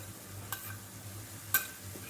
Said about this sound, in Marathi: आता हे परत आपण छान 1 मिनिट परतून घेऊया।